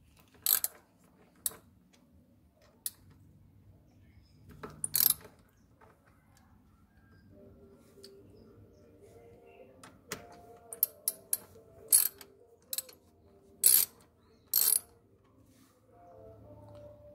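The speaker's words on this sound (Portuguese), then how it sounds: "Vai utilizar a chave 12 mm e sacar os dois parafusos." Twelve-millimetre wrench working the two brake caliper bolts on a Honda XRE 190 motorcycle, giving sparse, sharp metallic clicks and ratcheting ticks scattered through a quiet workshop, with short bursts near the start and a cluster toward the end.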